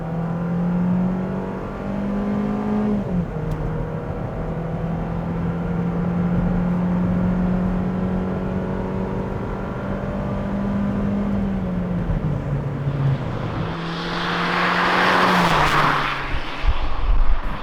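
A 2010 Hyundai Sonata's 2-liter gasoline engine revs hard at full throttle, its droning pitch climbing and stepping through gear changes, loud and continuous, ending in a rushing burst.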